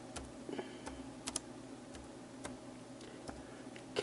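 Typing on a computer keyboard, keys tapped in a quick irregular run of light clicks, close but fairly quiet against a low hum.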